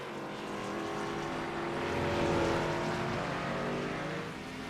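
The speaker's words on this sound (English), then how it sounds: "Now, Kenny, heavy on that throttle." A race car engine at full throttle at the Mid-Ohio circuit, a sustained distant roar that swells to a peak mid-clip and then eases slightly, with no speech over it.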